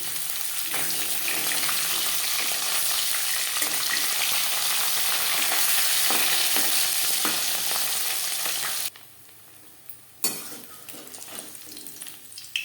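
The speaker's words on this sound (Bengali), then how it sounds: "মাছ আমি একটু কড়া করেই ভাজলাম" Small parshe fish sizzle steadily in hot oil for most of the stretch, a loud continuous crackle that drops off sharply near the end before a brief clatter and a quieter sizzle return.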